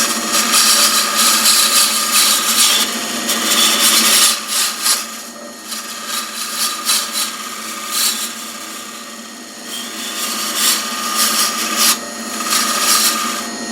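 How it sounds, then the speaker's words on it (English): Power tool fitted with a round carbide tip rounding over the edges of a wooden year-of-birth pen stand, giving a steady close rasping, grinding buzz that runs almost continuously with a few short dips, without any talk. "Back to the round carbide tip, and we can round it all off properly now."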